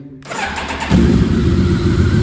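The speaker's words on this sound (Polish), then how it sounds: "przekręcam kluczyk, klikamy sobie zapłonik." A 2005 BMW K1200S motorcycle engine cranks and catches, then settles into a loud, steady idle rumble nearby, indoors.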